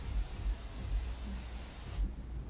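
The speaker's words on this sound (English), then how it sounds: "just go ahead and give your hair a nice little spray" Hair spray hisses steadily from an aerosol can onto flipped-up hair set with clip-in extensions, one continuous close, loud spray for about two seconds before stopping abruptly.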